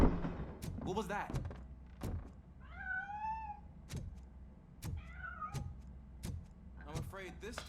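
A cat in the video game Robocop Rogue City meows twice in rising, wavering calls between sharp metallic clunks and footsteps, with a voice speaking briefly around them.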